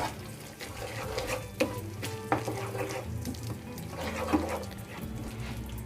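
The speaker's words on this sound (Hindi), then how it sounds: "इसे अच्छे से मिक्स कर लेंगे" Makhana (fox nuts) and peas being stirred together in a pan for restaurant-style matar makhana sabzi, with a steady soft sizzle and occasional scraping clinks of the spoon, no talking.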